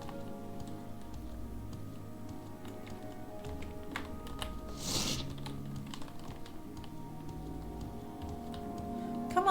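Steady typing on a computer keyboard, a continuous run of light key clicks under a constant background hum, with a brief brighter burst near the middle.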